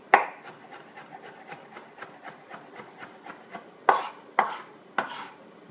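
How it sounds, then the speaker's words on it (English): Garlic being minced with a knife on a board, a quick series of soft rhythmic chops followed by a few louder, sharper strikes, close and clear with no talking. "Alright, there's our minced garlic."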